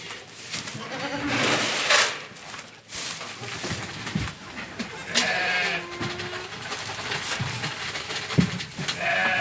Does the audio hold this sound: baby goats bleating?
yes